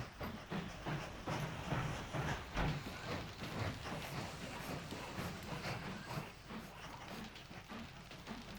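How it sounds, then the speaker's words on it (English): A raw iron freight train runs in the railway simulation game Mashinky, giving a steady rumbling roll with rhythmic clickety-clack of wheels over rail joints, moderately loud and continuous throughout. "It's actually going to deliver the iron, and this one is a raw iron train."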